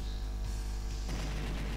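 Gunfire in The House of the Dead 2 as zombies are shot, a dense, steady stream of game shots and booms under a constant low rumble, with a sharper burst of impacts partway through.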